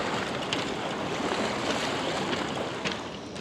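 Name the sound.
turbulent river water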